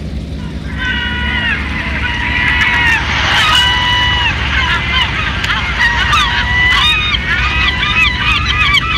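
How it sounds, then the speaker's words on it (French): Seagull cries added as a sound effect ring out in repeated high, honking calls, close and fairly loud, over a steady low engine hum with a voice speaking underneath. "je vais mettre du goéland"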